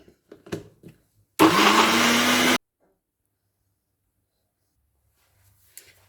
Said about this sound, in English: So let's blend our ingredients together.